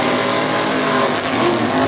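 Tough truck racing engines roar close and steady: a Ford Ranger and a Chevy small block under a 1968 Ford body, held at high revs without a break.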